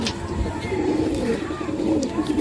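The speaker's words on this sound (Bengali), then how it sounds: "এগুলো সব জোড়ার পায়রা দেখানো হচ্ছে, কিছু ফোটাই পায়রাও আছে" Madrasi pigeons, a Malwai breed kept as paired show birds, coo in a low, steady murmur that runs without pause, fairly close and at a moderate level.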